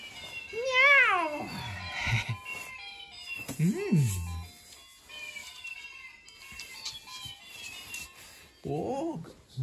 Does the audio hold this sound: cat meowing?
yes